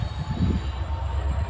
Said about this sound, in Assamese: ট্ৰেইনখন ইমান লাহে লাহে আহিছে